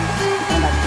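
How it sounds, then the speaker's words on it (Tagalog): A pet blower dries a dog's fur after a shampoo, a loud steady whooshing roar with a high whine that shifts slightly as the airflow moves. "tapatan mo lang ng blower para yung mga buhol-buhol madaling mawala"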